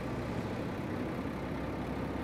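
A Volvo F12 or F16 truck idles in Euro Truck Simulator 2 near a ferry port, giving a steady, even, low engine hum with no talking.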